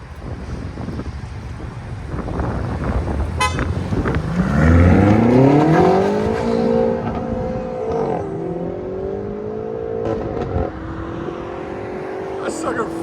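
A 2020 BMW M5 with its 4.4L twin-turbo V8, resonator deleted and valved exhaust, revs up from idle into a loud rising pull that eases back and settles, with wind buffeting and some talk around it.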